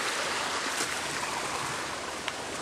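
Rushing floodwater after heavy rain, pouring through at about 1,000 gallons every five seconds, makes a steady, dense roar that holds close and loud throughout with no voices.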